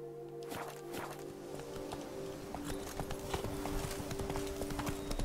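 Horse hooves while riding in The Witcher 3 game, a steady, fast clip-clop of a galloping horse, close and clear, with a faint tonal game hum behind it and no talk.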